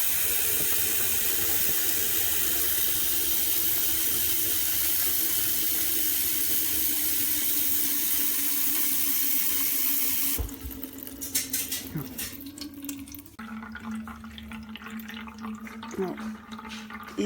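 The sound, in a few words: filling a Brita water filter jug from the tap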